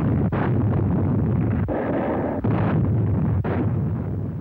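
Heavy naval guns bombard Mount Suribachi on Iwo Jima, a continuous roaring barrage with repeated deep booms arriving every second or so, loud and dense with no voices.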